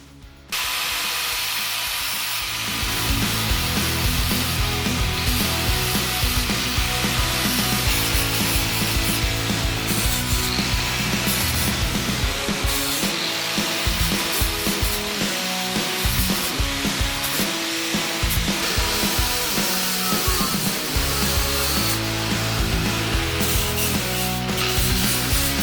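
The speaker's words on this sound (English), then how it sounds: "I got the parts that I could actually reach with the grinder" An angle grinder removing rust from metal, running continuously and loudly at close range with a steady harsh whine and grinding hiss for the whole stretch, with no talk.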